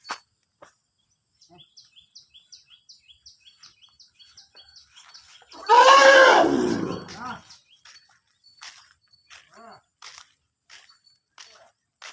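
During an outdoor morning walk, a horse lets out one loud, drawn-out neigh that rises sharply from near silence. Faint, evenly spaced bird chirps and clicks continue before and after it.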